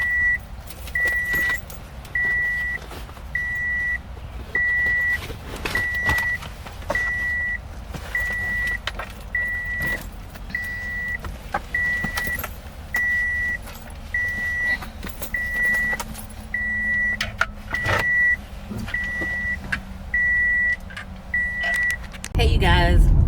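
A car driving with its sunroof open carries a steady rumble of road and wind noise beneath someone talking, with a faint chime repeating at a regular interval throughout.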